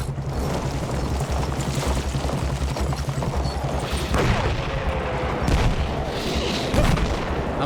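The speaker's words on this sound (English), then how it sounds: "Oh yeah, they already start shelling." Artillery shelling in a war video game: a dense, continuous barrage of booms and gunfire, with a few louder blasts standing out near the end.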